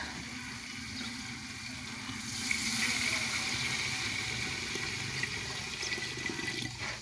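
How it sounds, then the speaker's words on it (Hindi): Water pours steadily into a pot with a continuous splashing rush, fairly close and moderately loud, no talking. "ये मैं पानी डालने लगा हूँ इसके अंदर"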